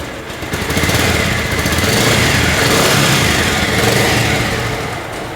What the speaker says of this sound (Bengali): বাইকের সাউন্ডটা আপনারা শুনতে পাচ্ছেন আশা করি। বাইকের সাউন্ড কিন্তু খুবই স্মুথ আছে।